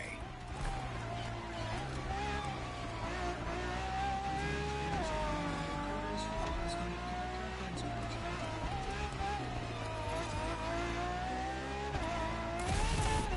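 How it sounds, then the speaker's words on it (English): A Ferrari FXXK race car in The Crew Motorfest video game drives a lap, its engine droning and rising and falling through gear changes over a constant roar while a narrator talks over it. "For this second lap, you'll be driving the FXXK."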